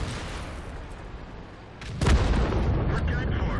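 A tank's main gun fires in the World of Tanks video game, a sudden loud boom about two seconds in that rolls into a sustained rumbling roar, with steady engine-like battle noise before it.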